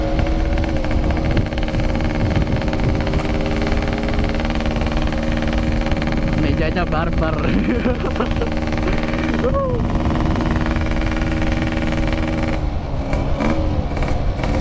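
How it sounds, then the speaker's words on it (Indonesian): A cold motorcycle engine runs before warming up, a loud, close, rough idle that keeps a steady throb with uneven sputters, while someone talks over it. "Ini mesin gua belum panas, masih batuk-batuk."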